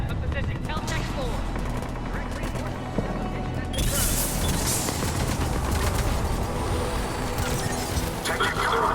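Gunfire in the sci-fi shooter Mass Effect 3, a dense rattle of shots over a loud continuous battle din, with people talking over the action.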